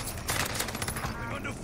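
Rapid gunfire in the video game Warzone Pacific, loud and dense bursts overlapping throughout, with a voice speaking over the shooting.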